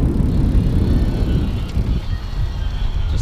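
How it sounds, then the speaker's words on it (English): An IZIP E3 Zuma electric bike's motor heard up close, a steady low whir and rumble with wind-like noise that eases slightly toward the end. "I'm gonna get really close to the motor here."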